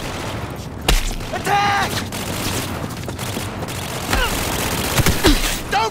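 Bursts of gunfire during a Cyberpunk 2077 firefight: sharp shots and volleys scattered through the scene, mixed with shouted combat voices.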